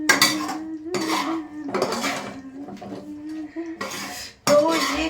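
Potatoes and peas are tipped into a pan of hot spiced oil with a close, busy clatter of utensils against the pan, coming in several bursts with brief pauses.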